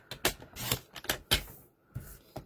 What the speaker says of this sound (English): I'm just going to trim it to 3/4 inch wide.